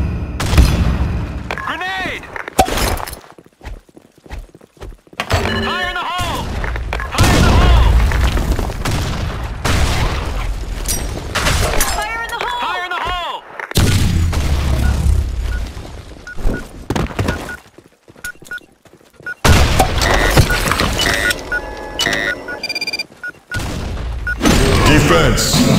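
Grenade blasts and gunfire in the video game Blackshot come as loud booms and bursts of shots separated by quieter stretches, with voices talking over parts of the fighting.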